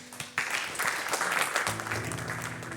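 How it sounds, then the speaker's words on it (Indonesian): A church congregation claps during a Sunday worship service. After a brief lull, a burst of steady applause begins and carries on, with a sustained keyboard or organ tone entering underneath partway through. "Tepuk tangan sekali lagi buat kebenaran firman Tuhan"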